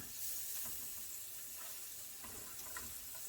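Flour-dredged steak pieces sizzle steadily in an oiled skillet just after being turned over, a close, continuous frying hiss with faint crackles and no voices.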